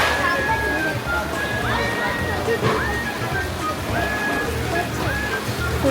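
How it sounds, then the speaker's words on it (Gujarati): A waterfall outside a cave near Katra sends out a continuous rushing, sloshing wash of water at moderate distance, with people talking over it throughout. "વોટરફોલ છે."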